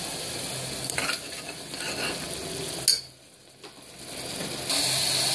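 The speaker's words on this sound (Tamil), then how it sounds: "இது போட்டுட்டு கிளறி விட்டுக்கோங்க" Ground spices such as coriander powder stirred into oily eggplant curry (ennai kathirikai, Muslim style) in a pan: a close sizzle with scraping stirs, a sharp utensil knock, then a brief hush before the frying noise swells again.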